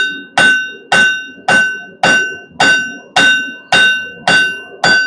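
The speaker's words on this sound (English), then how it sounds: "Back at the anvil." Blacksmith hammering hot steel on an anvil, nine loud ringing strikes in a steady rhythm about every half second, each with a bright metallic ring that decays before the next blow.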